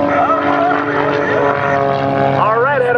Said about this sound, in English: He brings that airplane to a stop. Let's see if he can fly it backwards. Hanging it on the propeller.